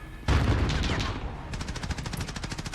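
Rapid gunfire in Call of Duty Modern Warfare: a loud sudden burst of automatic fire, then a steady rhythmic stream of close shots, with faint speech mixed underneath.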